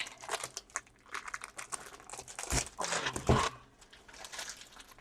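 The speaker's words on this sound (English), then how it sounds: "just going to break the plastic, pull it apart" Plastic wrapping on a Cricut Maker 3 box crinkles and crackles as it is broken and pulled apart, with close, irregular bursts and a couple of sharper snaps near the middle.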